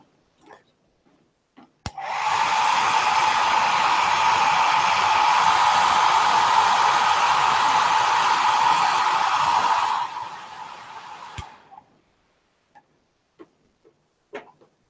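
Hair dryer drying watercolor paint on a still life, a loud steady airy roar running about eight seconds, with small clicks as it switches on and off.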